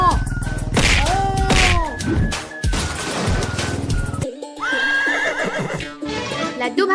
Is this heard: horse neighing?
yes